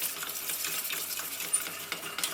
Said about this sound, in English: Don't worry if a sauce starts to look lumpy like this, just keep it whisking